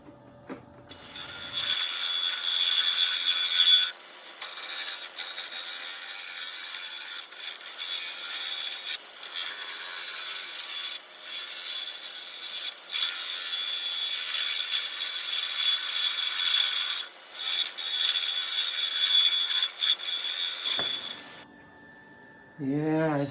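Plum wood bowl spinning on a wood lathe, a steady high abrasive rubbing and scraping with short pauses between passes, fairly close and alone.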